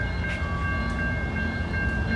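Train rolling along tracks that run down the middle of a main street, a steady low rumble and rail hum carrying a high sustained tone, moderately loud and continuous with no voices.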